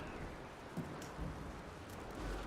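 Steady storm rain from the video game Red Dead Redemption 2 hisses softly and evenly throughout, a faint, continuous wash with no clear thunder or voices.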